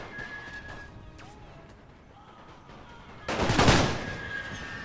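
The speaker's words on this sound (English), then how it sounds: "Let's focus in the machine gun fire on this unit." Rapid machine gun fire bursts out in a World War I strategy video game, a loud clattering volley after quieter battlefield ambience, with someone talking.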